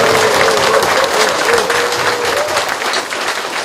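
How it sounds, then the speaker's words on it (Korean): A rally crowd in Uijeongbu applauds and cheers for Democratic Party leader Kim Han-gil, with dense, steady clapping and voices filling the space at full loudness throughout. "우리 당대표이신 김한길 대표님께 뜨거운 환호와 함께 박수를 청하겠습니다."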